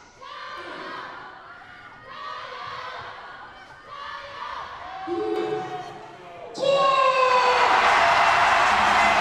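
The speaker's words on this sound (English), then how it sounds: "Well, the noise erupts now." A crowd cheers and roars at a sitting volleyball match between France and China, swelling from busy shouting into a loud sustained burst of noise near the end.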